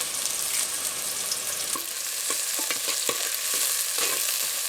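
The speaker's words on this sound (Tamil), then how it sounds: "பாருங்க, சின்ன வெங்காயம் நல்லா வதங்கிடுச்சுங்க" Small onions, fenugreek seeds and green chili sautéing in a pan, a continuous close sizzle broken by repeated scraping stirs and light clinks of a spoon against the pan.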